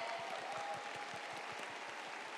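Applause at a pop music award ceremony, a dense, steady clapping from a large audience that holds at an even level throughout.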